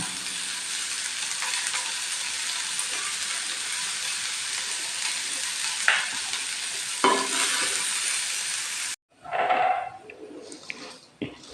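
Onions sauté in a pan while being stirred. A loud, even frying hiss runs for about nine seconds with a few stirring scrapes, then drops out and gives way to brief clatter.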